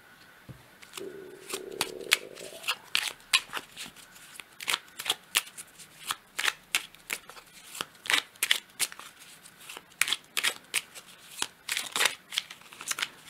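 Oracle cards being shuffled for a reading, a long run of crisp riffling and flicking bursts in an uneven rhythm, close and clear with no talking over it.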